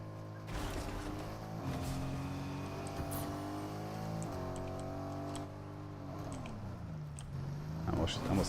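A car driven in a video game: a sustained engine drone whose pitch rises and falls through gear changes, with a brief revving burst at the end.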